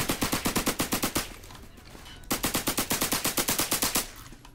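A suppressed Tommy gun fires in the Roblox game Criminality, in two rapid bursts of about a dozen muffled shots each, split by a short pause, close and loud.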